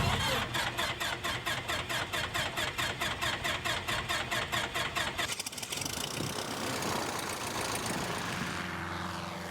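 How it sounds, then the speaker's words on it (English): A Super Cub bush plane engine cranks over in rapid rhythmic pulses for several seconds, then catches and settles into a steady propeller drone, heard alone from fairly close by. "the engine starts up and it sounds just kind of like average"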